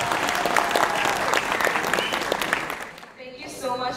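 A large audience applauds at a closing ceremony for an international event, with dense, steady clapping that carries on loudly before thinning out near the end, when a voice begins speaking.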